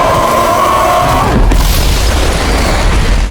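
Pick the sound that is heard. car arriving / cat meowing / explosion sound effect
explosion sound effect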